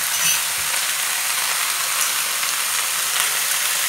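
Pickled mustard greens are stir-fried in a pan with oyster sauce, making a continuous hissing sizzle with faint scraping and stirring clicks, steady and fairly close, with no talking.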